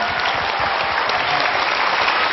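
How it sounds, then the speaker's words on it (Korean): Studio audience applauding on a Korean televised audition show, a dense, steady wash of clapping at close range that fills the whole stretch without pause. "박수 보내주세요, 여러분들."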